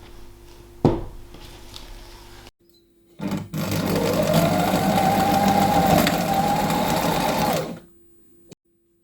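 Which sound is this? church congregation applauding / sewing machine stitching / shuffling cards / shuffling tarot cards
sewing machine stitching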